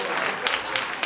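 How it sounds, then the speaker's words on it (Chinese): A theater audience claps for a manzai comedy duo after their act, a dense, steady patter of many hands filling the room while talk runs over it. "再给兔子一个掌声"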